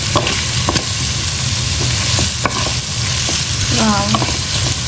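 Ginger, garlic and green chili paste frying in a pan for a palak potato masala curry, with a loud continuous sizzle close up and occasional scraping stirs of a spoon; no talking.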